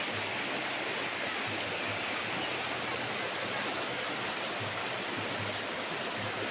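River water flowing beside a farm lot in Liliw, Laguna, a steady, moderately quiet rushing hiss with a faint low hum underneath.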